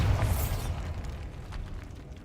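Bombarda spell explosion in the Hogwarts Legacy video game, a single loud burst at the start that rumbles and decays over about two seconds.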